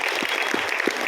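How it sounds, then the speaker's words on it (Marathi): Steady applause from an audience at a Women's Day programme at the Lokmanya library, dense and even across the whole moment, with a few low thumps standing out under the continuous patter of hands. "तिघींसाठी पुन्हा एकदा जोरदार टाळ्या पडतात"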